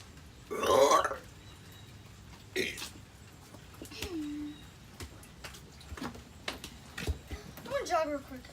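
Close, loud burp at the start followed by weaker throaty sounds and a few vocal noises, with speech-like bits scattered through the rest.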